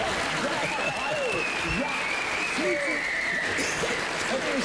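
Steady applause from a television studio audience on a 1998 Dutch entertainment show fills the room continuously, with a host's voice speaking briefly over it.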